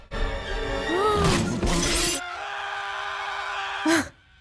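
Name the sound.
glass shattering in The Simpsons Movie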